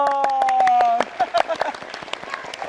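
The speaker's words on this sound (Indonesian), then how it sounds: "Tepuk tangan pemirsa dulu di rumah" A small studio audience on a morning talk show breaks into scattered clapping right after a sustained electronic tone cuts off; the claps are close, uneven and brief.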